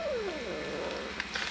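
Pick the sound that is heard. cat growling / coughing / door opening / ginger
cat growling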